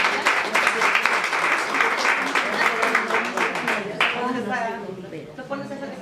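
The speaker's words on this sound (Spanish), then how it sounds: "Un aplauso para la maestra, por favor." An audience gives a teacher a lively round of applause after a talk on gifted students, dense clapping that fades around the fourth second as voices take over.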